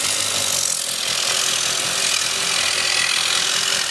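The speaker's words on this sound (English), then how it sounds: "I'm going to sand this top area. Sand it just like that without it spinning" Grit paper rubbed by hand across the top edge of a natural-edge yew wood bowl on a lathe, with the bowl not spinning, makes a loud, steady, rough scraping that continues without pause and without talking.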